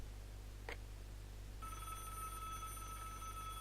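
A telephone rings in the point-and-click adventure game Broken Sword, a steady, bright electronic trill that starts partway through and continues over a low, constant background hum.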